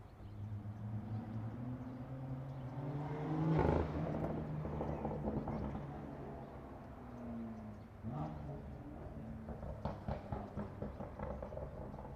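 A fast car's engine roars outside, rising and swelling into a loud pass before tailing off into a lower rumbling idle with some rattly pulses, moderately distant.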